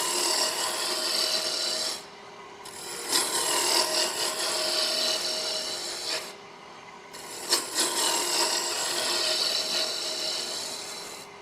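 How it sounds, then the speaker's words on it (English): A roughing gouge cuts a taper into a spinning piece of wood on a lathe, giving a close, continuous rasping hiss with two short breaks where the tool lifts off, steady and loud with no talking. "if you're doing a taper like this, especially with a roughing gouge"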